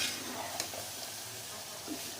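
Afghani chicken korma is stirred in a pan, with soft scraping and a light sizzle close by and a brief clatter at the end.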